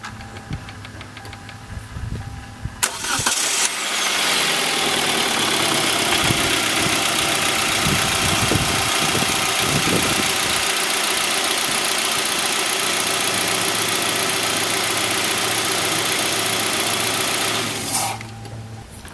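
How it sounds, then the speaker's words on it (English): Hyundai Elantra Touring engine cranks and catches after an oil and filter change, then settles into a steady, close idle with a faint ticking texture for about fifteen seconds before shutting off. "now we're going to start the engine and let it run for a couple of seconds"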